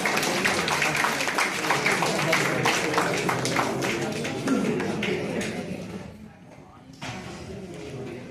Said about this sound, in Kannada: ಚಪ್ಪಾಳೆ ಬರಬಹುದಲ್ಲ?